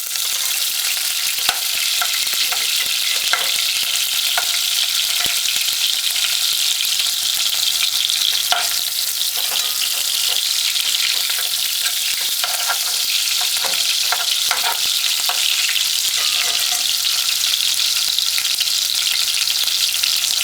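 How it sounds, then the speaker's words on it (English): Onions fry in hot oil on a stovetop for Run Dung, a steady, loud sizzle lasting the whole stretch with occasional stirring scrapes and no talking. "the oil is hot, we're gonna now add the onions first"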